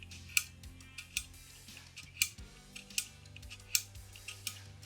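Freshly assembled airsoft replica mechanism, an SR25 build, gives a series of crisp, close mechanical clicks at an irregular pace, each a sharp snap over a faint low hum, with no talking.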